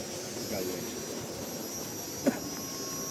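A solar water pump on a farm in San Antonio, Nueva Ecija, pours water in a steady, rushing flow that continues without a break. A brief knock cuts through it partway.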